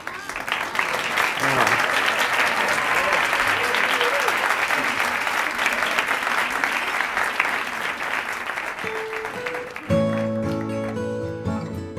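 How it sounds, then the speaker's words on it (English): An audience applauds a folk duo as they are introduced onstage, sustained loud clapping that fades near the end as guitar music begins. "if you give a round of applause"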